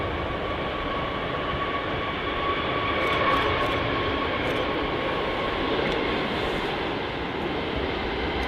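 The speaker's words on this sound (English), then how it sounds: "There goes the Aer Lingus A321 Neo, heading off to JFK." Aer Lingus Airbus A321neo jet taking off from Manchester Airport, a steady broad engine roar with a faint whine, swelling slightly midway and holding at a moderate distance, with no voices.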